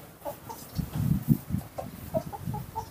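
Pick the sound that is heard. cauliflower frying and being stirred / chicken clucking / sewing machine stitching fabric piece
chicken clucking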